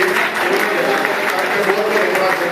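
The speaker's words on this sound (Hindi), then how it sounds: "सुरेंद्र जी के लिए ताली बड़ी जबरदस्त बनी है।" An audience at a motivational seminar claps steadily and loudly throughout, with a dense continuous applause texture and a voice speaking over it.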